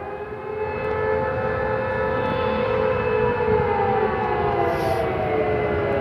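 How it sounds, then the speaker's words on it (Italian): Alarm sirens wail during a fire at the Sonatrach refinery in Augusta, a steady, loud, sustained wavering tone holding for several seconds with a faint rumble beneath and no talking. "Le sirene che lanciano l'allarme, l'incendio alla Sonatrach di Augusta"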